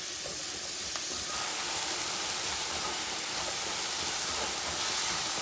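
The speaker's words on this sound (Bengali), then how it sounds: "ভালো করে মশলাটা কষাতে হবে।" Spice masala sizzles steadily in hot oil while being fried for a koi fish curry, a dense continuous hiss close by and alone, without pauses or talk.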